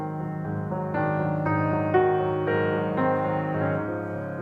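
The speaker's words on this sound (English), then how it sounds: "I could just as surely annihilate either wife entirely by using too much pedal and obliterating all the articulation indications" Piano playing Mozart's Sonata in C Minor, K 457 with heavy sustain pedal, notes blurring together into a smeared continuous wash over a held bass, moderate and steady with no talking.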